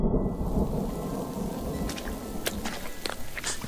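Thunder rumbles through steady heavy rain in a forest during the rainy season, a continuous dense wash with a few sharper cracks and spatters near the end, no voices.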